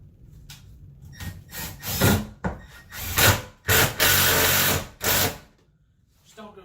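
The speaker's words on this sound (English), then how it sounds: "So I've got a ratchet driver here, or impact driver here." A cordless impact driver sinks a screw into wood during a closet remodel, firing in several short, loud whirring bursts separated by brief pauses, close up.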